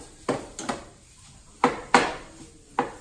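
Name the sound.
ground beef being broken up and cooking in a pan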